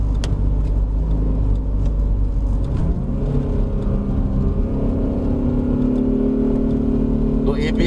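A 1995 Mercedes-Benz W202 fan car climbs a wet hill road at Genting, its engine droning loud and close with rising revs as it accelerates, overlaid by continuous road and tyre noise.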